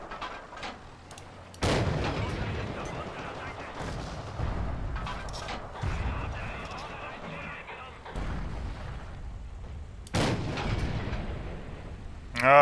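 Gunfire and explosions from the multiplayer war game Forgotten Hope 2, with loud bursts and booms recurring every couple of seconds against a steady battle din, and a voice talking over parts of it.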